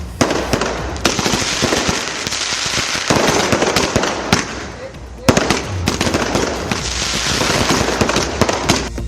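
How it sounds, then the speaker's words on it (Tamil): A Diwali fireworks display at Shivaji Park in Mumbai, with dense loud crackling bursts and rapid firecracker pops packed together, a brief lull midway, then another heavy barrage. "மகாராஷ்டிர மாநிலம் மும்பையில் உள்ள சிவாஜி பூங்காவில் கண்கவர் வான வேடிக்கை நடைபெற்றது."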